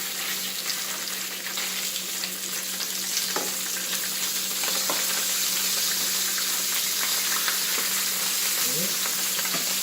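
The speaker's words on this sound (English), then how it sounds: "Just let this fry up." Meatballs and sausage fry in a pan for an Italian Sunday dinner, giving a steady, loud, close sizzle that runs continuously with faint scattered crackles and no talk.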